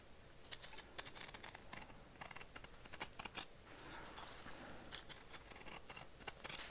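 Scissors trimming fabric close to collar stitching on a summer shirt, quiet crisp snipping in quick bursts of several cuts separated by short pauses, no talk.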